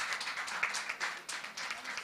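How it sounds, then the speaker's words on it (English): An audience at a women's summit panel claps for a panelist. The applause is a brief, steady patter of many hands at moderate volume, with no one speaking over it. "Can we give her a round of applause, please?"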